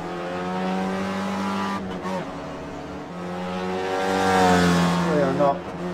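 A race car in the iRacing sim holds a steady, high engine whine that climbs and dips through gear changes, with a voice commentating over it.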